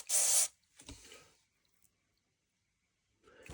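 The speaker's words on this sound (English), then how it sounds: "Spray it in there. Give that a good blast." An airbrush liquid cleaner gives a loud, sharp blast of spray lasting about half a second, then a fainter short hiss, a long silence, and another spray beginning at the end.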